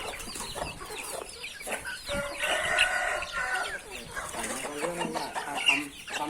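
Many free-range Thai native chickens cluck and squawk close by, with a rooster crowing in the middle, in a busy, continuous flock chorus outdoors.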